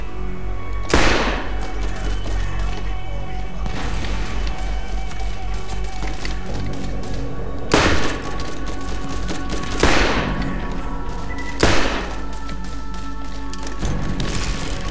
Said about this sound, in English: I think that's because I'm shooting them.